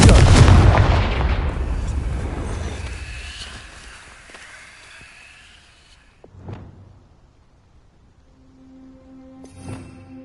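A Confringo spell explosion in Hogwarts Legacy lands as a loud deep boom that rumbles and fades over several seconds, followed by two fainter thuds and light effects.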